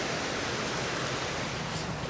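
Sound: waterfall at Huai Mi campsite viewpoint

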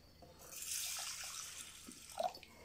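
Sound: water poured over pearl barley in a container

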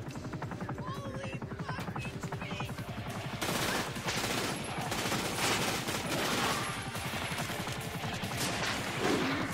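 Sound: automatic machine gun fire in video game The Darkness

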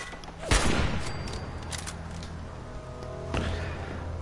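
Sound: turret gunfire from video game Fallout 4

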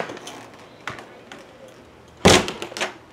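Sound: knocking on a door

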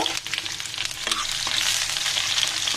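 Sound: onion and garlic frying in oil

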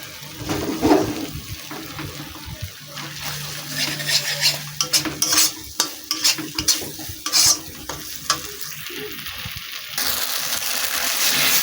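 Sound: stir-frying poppy seed and mustard paste in a pan

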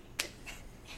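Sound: hands clapping

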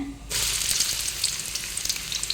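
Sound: onion frying in hot ghee

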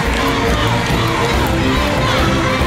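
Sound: audience applause and cheering

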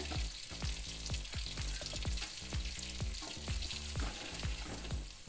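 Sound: sautéing ginger, green chili and beans for vegetable upma

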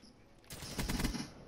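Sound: KN-44 gunfire in Black Ops 3 video game

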